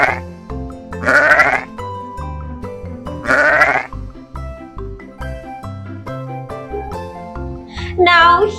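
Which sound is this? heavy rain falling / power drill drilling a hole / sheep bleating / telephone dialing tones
sheep bleating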